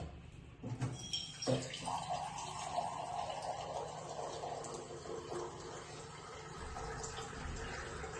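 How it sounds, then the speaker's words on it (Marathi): Water pours steadily into a cooking pot, a continuous gushing stream after a couple of brief knocks at the start. "पाणी घालूया आपण."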